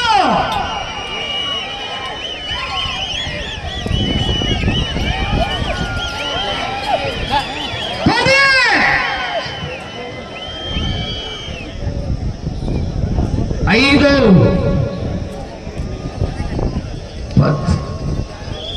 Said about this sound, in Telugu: 30 సెకండ్లు గట్టిగా విజిల్లో కేకలేయాల